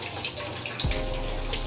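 A weak flow of water from a tap, a steady close rushing hiss with faint drip-like splashes and a low thud near the middle, with no talk.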